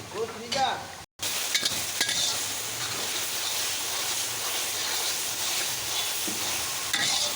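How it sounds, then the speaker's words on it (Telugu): Jaggery is stirred into simmering buttermilk rasam (salla charu) in a pot, a steady hiss of bubbling with soft stirring clinks, briefly cut out near the start. "ఇందులో కొంచెం బెల్లాన్ని కూడా యాడ్ చేసి మంచిగా కలుపుకోవాలి"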